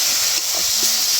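A splash of water hits a hot pan of frying spices for a jackfruit biryani, giving a loud, steady, broadband steam hiss that runs through the whole moment.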